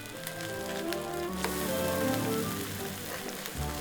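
Radish pancakes frying in a pan, a steady close crackling sizzle with dense popping spits throughout, no voices.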